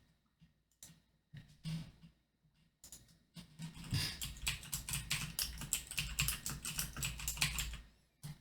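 Rapid clicking keystrokes on a computer keyboard, a few scattered taps at first, then a dense, steady burst of typing close to the microphone with no talking.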